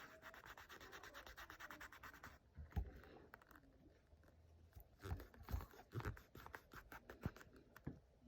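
Paint powder being rubbed by hand into a leather Tieks shoe, soft scratchy brushing strokes that come and go in short uneven bursts, quiet and close.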